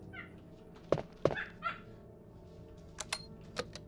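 A puppy nearby gives a few short yips and whimpers, faint and scattered, with a couple of brief sharp clicks between them.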